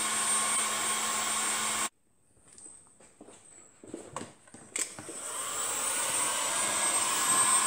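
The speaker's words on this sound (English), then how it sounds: "just giving this piston a bit of a heat up to expand it" A heat gun roars steadily while it warms a piston on a Jawa Land Patrol motorcycle restoration. The roar cuts out, a few clinks and handling sounds follow, and then the blower starts again and rises.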